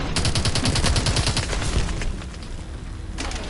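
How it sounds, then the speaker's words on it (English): Rapid bursts of video game gunfire in a tank-and-infantry battle, dense crackling volleys filling the first two seconds, then thinner distant shots and rumble, loud with no talk. "Taking fire from the range."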